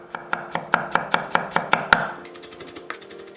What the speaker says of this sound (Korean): 통마늘 3개는 살짝 굵게 다져서